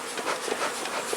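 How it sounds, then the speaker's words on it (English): Honeybees hum around a hive box, bearding heavily on the outside in warm weather, a brief close, continuous buzzing drone with slight wavering. "look at all the bees in that box"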